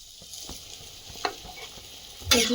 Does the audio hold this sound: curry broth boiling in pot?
yes